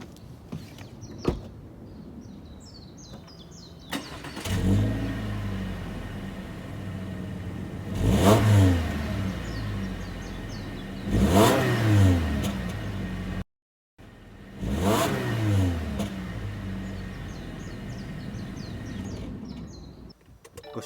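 Subaru Impreza Sport engine heard from outside, revving in three separate rising pulls that fall back to idle, with birds chirping faintly in the background and a brief cut to silence midway.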